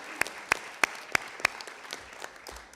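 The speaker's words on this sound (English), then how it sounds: "I think we need to give them a round of applause" A handful of crisp, evenly spaced claps ring out at a town hall forum on homeless youth, loud and close, then trail into softer scattered clapping.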